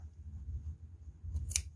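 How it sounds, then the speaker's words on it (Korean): Scissors snip through fabric while a small sewn pouch is trimmed, a faint low hum underneath, then a couple of crisp, close cutting clicks near the end. "요거를 이제 가위로다가 따야 돼요"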